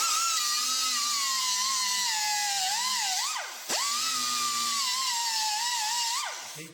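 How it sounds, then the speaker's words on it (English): A small die grinder whines at a high, steady pitch as it cuts a nubbin from black gum wood, dipping briefly twice as the load changes before spinning back up, close and loud with no talking. "My preferred method is to use a little die grinder here."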